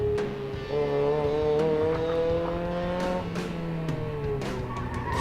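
A drift car powers out of a corner with a loud, sustained engine roar that rises and holds, mixed with squealing tires and brief bursts of crowd or track noise, up close.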